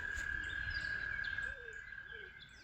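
Frogs and evening birds calling together outdoors behind a church, a steady high trill running throughout with scattered chirps and a low rumble of background noise, moderately faint.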